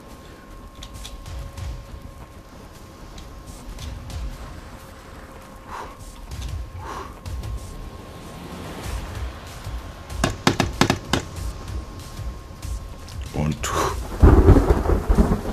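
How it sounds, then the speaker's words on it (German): A thunderstorm in The Forest: rain hisses steadily while thunder rumbles and cracks several times, building to a loud, close crash near the end, with a brief word spoken. "Hauptsache, es gewittert."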